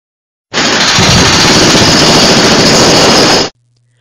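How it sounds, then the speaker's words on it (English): Hammer drill boring 8x7/8 holes into the concrete side of an open-air tank at a wastewater treatment plant: one loud, steady, harsh roar lasting about three seconds, starting and stopping abruptly, with no voices. "Replacing the old rusted away anchors starts with the drilling of new 8x7/8 holes in the concrete side of the open air tank."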